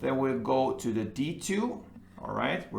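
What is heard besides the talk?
None of the usual background noises is heard.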